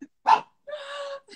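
A nearly eight-year-old dog gives a sharp single bark, then a drawn-out whining yip and a short trailing whimper, close by and clear against a quiet room.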